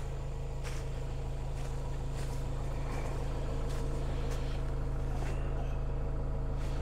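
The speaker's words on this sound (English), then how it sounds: "all I have to do is drive forward the tractor" A tractor drives forward in a January fall cleanup, pulling a branch through a self-releasing snatch block. The engine drones in a low, steady rumble at moderate distance, with faint clicks and knocks over it.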